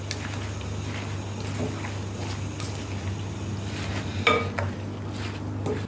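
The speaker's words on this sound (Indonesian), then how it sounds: "nah ini kita aduk-aduk sampai rata" A spoon stirs vegetable fritter (bakwan) batter with green beans and carrots in a bowl, making soft, irregular scraping and clinking sounds over a steady low hum, with one sharper knock near the end.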